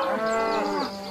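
A big fat cow lets out a single low, drawn-out moo in a garden, loud and close, lasting about a second before trailing off.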